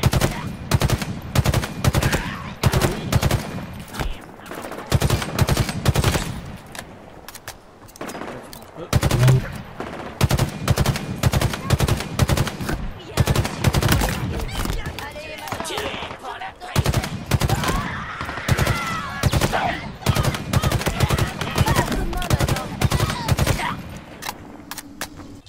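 Bursts of automatic gunfire in the Halo Infinite video game, fired from a moving vehicle, come in repeated loud volleys with short pauses between them, while voices talk over the shooting.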